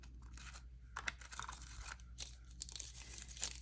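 Nail art foil being picked out and handled gives light crinkling and tearing rustles in short bursts, close and fairly quiet.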